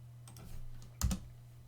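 Computer keyboard keys pressed while entering commands, a soft brief cluster of clicks with a louder burst of taps near the middle over a steady low hum, no talk.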